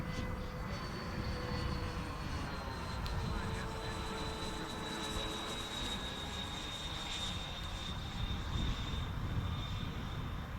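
An RBC Kits Skyray F4D radio-controlled model jet flies overhead, a steady faint whine and whoosh of its motor droning evenly against a broad outdoor wind noise throughout.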